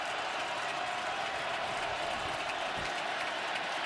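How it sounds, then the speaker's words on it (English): A stadium crowd at a Steelers vs Ravens NFL football game roars in a dense, unbroken wash of cheering that stays steady and loud for the whole stretch. "Crowd is revved up."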